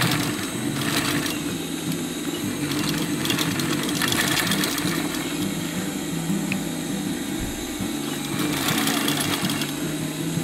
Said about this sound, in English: It's going to overlap with the that shoulder strap holder, and you're going to sew over it.